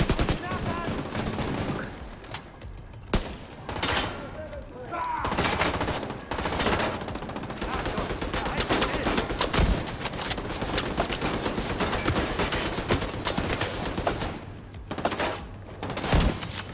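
Sustained machine-gun fire in The Division 2 during a fight at a crashed plane, loud and dense volleys running almost the whole time with brief pauses, mixed with game effects and occasional talk.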